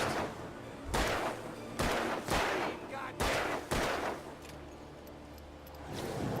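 Gunfire in the video game Alan Wake, several loud, sharp shots fired at irregular intervals, each followed by a short ringing tail, close and alone without talk.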